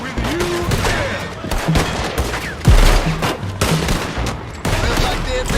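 Dense gunfire from a Red Dead Redemption 2 shootout, rapid overlapping shots and a heavy boom midway, with brief voice fragments mixed into the steady barrage.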